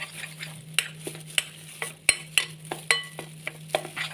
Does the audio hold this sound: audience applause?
no